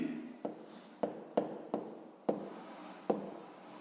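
Pen writing on paper during a sixth-grade maths exercise on map scale, a run of short scratchy strokes about every half second, close and quiet, with no talk over them.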